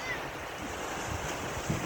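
Sea waves wash in along the shore near Tripoli, Lebanon, a steady broad surf roar with wind buffeting the microphone and a slight swell near the end.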